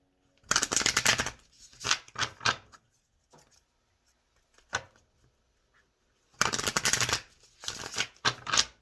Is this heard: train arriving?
no